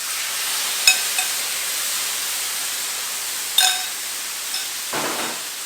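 Shrimp laid onto a medium-hot Blackstone griddle coated with olive oil, a steady hiss of frying with a few brief clicks and taps, close and continuous with no talking.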